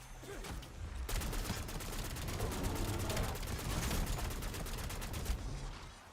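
Point turrets blast away in Black Ops 7 Zombies, a dense stream of rapid automatic gunfire that runs continuously for most of the stretch before cutting off near the end, fairly loud and without talk.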